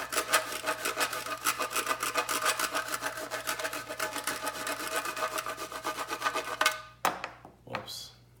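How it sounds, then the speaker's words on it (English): Chocolate grated over a layered dessert gives a steady rasping scrape, fast and repeated for several seconds, close and moderately loud, then a couple of knocks and a short clatter at the end. "you're gonna want to grate your chocolate on top"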